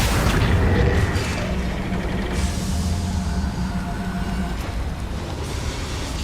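In Hogwarts Legacy, a Confringo spell blows up a boiler inside a mine with a heavy booming burst, followed by a lingering low mechanical rumble and clanking that stays steady.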